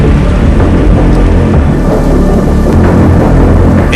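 A heavy downpour roars steadily and loudly during a Dakar rally stage, with rumbling thunder rolling beneath the dense, continuous hiss of rain, and no voices present.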